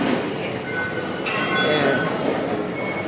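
A train rolling through a crowded station, a steady near rumble with faint wheel squeals and the murmur of a crowd, while a person talks briefly over it.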